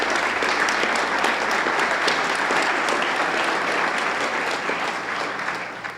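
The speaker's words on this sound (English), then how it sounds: "Big round of applause for Joan." An audience at a Hall of Fame induction ceremony applauds loudly for a softball head coach, producing dense, sustained clapping that stays close and strong for several seconds before easing slightly at the end.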